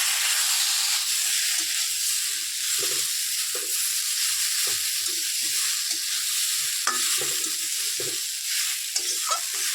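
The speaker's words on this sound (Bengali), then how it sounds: "এই পর্যায়ে আমি ভেজে রাখা আলুটা দিয়ে দেব" Fried potato pieces are stirred into a drumstick (sajne data) curry sizzling in a pan, giving a steady frying hiss broken by frequent scraping stirs and light clanks, with no one talking.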